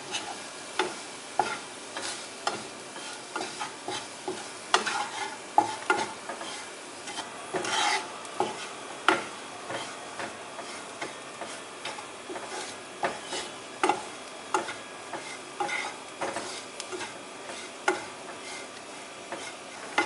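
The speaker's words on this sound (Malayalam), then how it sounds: "അതിൻ്റെ ബാക്കി നമുക്ക് ചേർക്കാം. നന്നായി മിക്സ് ചെയ്യാം." A spoon or spatula rasps and scrapes repeatedly against a pan as fried prawns are mixed with spices for Kerala prawn pollichathu, a quiet, steady stirring rhythm with a faint sizzle underneath and no talk.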